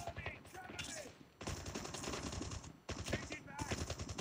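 Rapid automatic gunfire in Call of Duty Mobile, dense bursts of game shots crackling almost continuously with short gaps, loud and close, while a voice talks over the action.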